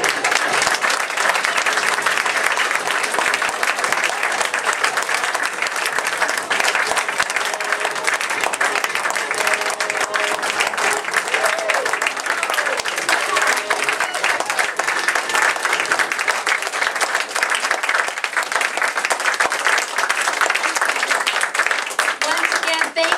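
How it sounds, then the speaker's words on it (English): Sustained audience applause in a room at a live radio-themed show, dense continuous clapping from many people, loud and steady throughout. "Let's have another big round of applause for our fabulous guests."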